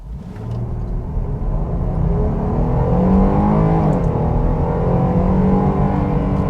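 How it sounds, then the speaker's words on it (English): A 2022 Jeep Grand Cherokee 4x4 with a V6 accelerates on a short run. The engine's loud, steady drone rises in pitch as it pulls, then levels off with a continuous rumble. "so let's do a slight run here real quick"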